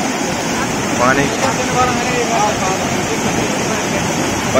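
Water roars through the opened gates of a dam with fifteen of eighteen gates open, a continuous loud broadband rush like a waterfall, with indistinct voices faintly mixed in.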